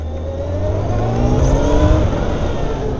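Motorcycle engine revving as it pulls out to overtake a bus on a commute to work, a loud, steady mid-pitched drone rising in pitch with throttle, close and continuous with no talk.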